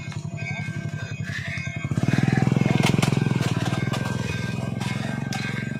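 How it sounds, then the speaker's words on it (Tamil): Vehicle engine on a forest path, a steady throbbing motor that swells louder partway through and keeps chugging nearby, with voices talking faintly underneath. "நம்மளும் வண்டி சத்தம் கேட்குது."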